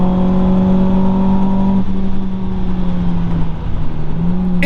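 A Renault Clio 2 RS with a naturally aspirated engine revs loudly and steadily, its tone holding a constant pitch before dipping slightly partway through, with no voices.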